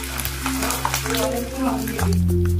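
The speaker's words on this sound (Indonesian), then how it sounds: "Lanjut panaskan minyak goreng cukupnya, goreng terinya." Anchovies frying in hot cooking oil in a home kitchen, with a steady sizzle and crackle and occasional stirring, plus a low hum from the stove that grows louder near the end.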